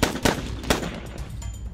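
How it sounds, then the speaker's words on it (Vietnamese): Gunshots fire in a Minecraft battle: three sharp, loud cracks in quick succession, each trailing off with a short ringing decay, and no talk over them. "Tớ sẽ bắn thằng Vi trước đây"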